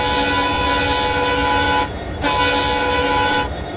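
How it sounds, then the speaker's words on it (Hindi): A WDG4D diesel locomotive horn in the Railworks train simulator, loud sustained chord-like blasts split by a short break into two long sounds, with no talking. "ये रहा हमारा हॉर्न"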